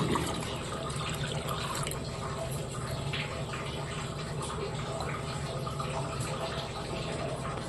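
Water pours steadily into a pan on the stove while Saffola masala oats are being made, a continuous close splashing rush with no pauses.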